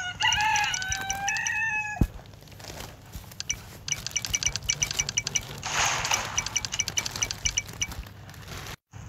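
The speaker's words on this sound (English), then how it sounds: "Defend Mad City from an alien chicken attack." Alien chicken in the Roblox game Mad City crows and clucks over game music, a clear crow in the first two seconds followed by a run of rapid clucks and clinks, loud and close.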